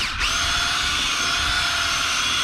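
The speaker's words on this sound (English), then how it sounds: "I'm just going to do a little drill job." A power drill fitted with a buffing pad spreads 3M Finesse-It polish on a boat transom, giving a steady high whine that spins up quickly and holds close and loud throughout.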